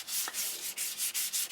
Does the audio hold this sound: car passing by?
no